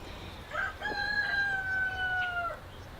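A silkie rooster crows once, a clear, sustained cock-a-doodle-doo lasting about two seconds, close by against a quiet background.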